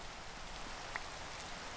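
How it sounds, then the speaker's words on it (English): Steady rain falls in Minecraft as an even, soft hiss of drops that runs the whole time, fairly quiet and unbroken. "just work through the rain, because really, just a bit of rain, something different for your mind"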